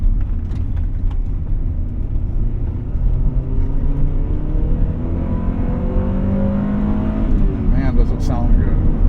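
A 1998 Honda Prelude Type SH engine hums from inside the moving car, a steady low drone that rises in pitch as it accelerates late on, with the road and cabin noise underneath.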